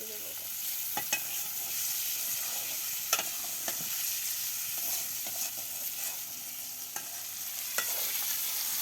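Pieces of hangas fish frying in hot oil give a steady, close sizzle and crackle, with occasional small pops and utensil taps, and no talking.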